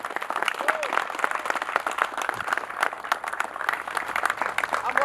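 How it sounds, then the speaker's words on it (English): A crowd gathered at a sectional shooting match claps in a dense, sustained round of applause lasting several seconds, with a few voices mixed into the clapping. "big round of applause for him"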